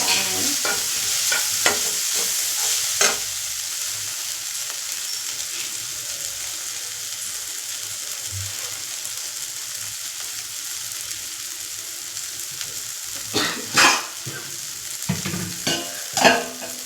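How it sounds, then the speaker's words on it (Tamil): Sambar powder and onions frying in hot oil, a steady close sizzle running throughout, with a few louder crackling bursts and stirring clatters near the end. "இந்த சாம்பார் தூள், இந்த வெங்காயம் இதெல்லாம் அப்படியே எண்ணெயிலேயே வேகிறதுனால"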